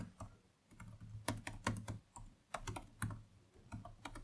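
Keys clatter on a computer keyboard in uneven bursts of close, crisp taps with short pauses between runs, and no talking.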